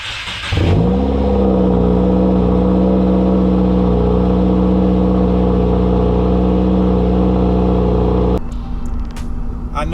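Subaru engine fitted with a Subiedepot axleback exhaust, starting up and revving into a loud, steady drone that holds for several seconds before dropping back, recorded close to the exhaust.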